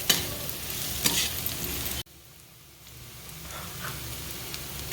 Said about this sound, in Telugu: మంచి వాసన వస్తుంది. మెంతికూర ఆయిల్లో వేగుతుంటే.